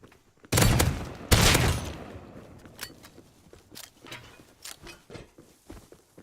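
Gunfire in the video game Rust: two loud, close bursts in quick succession, followed by a string of softer clicks and shots that taper off.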